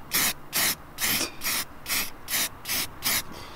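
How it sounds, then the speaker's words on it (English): A spray bottle fires about ten quick, even bursts of hissing mist onto a car in a steady rhythm, close up with short gaps between pumps. "Give it a good old spray."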